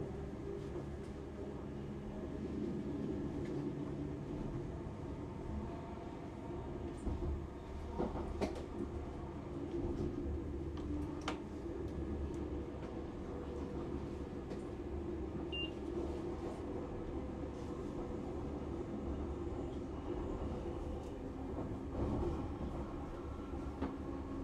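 A train leaving Crewe at speed, heard from aboard as a steady low rumble and rushing hum with occasional faint clicks and knocks, continuous throughout with no voices.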